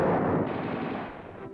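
Gunfire in jungle combat against snipers, a dense burst of rapid machine-gun shots that blurs into a loud, sustained rattle and slowly fades, with no voices.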